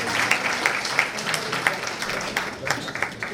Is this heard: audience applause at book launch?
yes